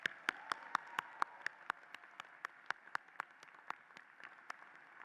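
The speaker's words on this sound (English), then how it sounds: "One more round of applause." Quiet, evenly spaced claps ring out at a college honors commencement ceremony, a sparse and steady patter of single hand claps rather than a dense roar.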